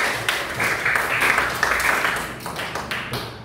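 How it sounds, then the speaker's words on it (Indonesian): Schoolchildren clapping together in a classroom, a short dense burst of hands with a few sharper slaps, fairly close and loud, fading out after about three seconds. "tepuk tangan untuk kita semua"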